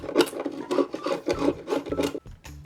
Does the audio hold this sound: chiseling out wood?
yes